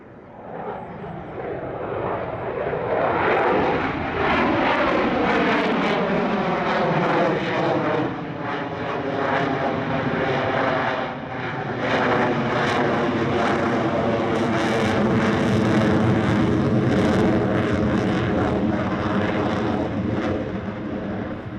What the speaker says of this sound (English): the Royal Malaysian Air Force, who mounted solo displays in the FA-18D Hornet and the Su-30 MKM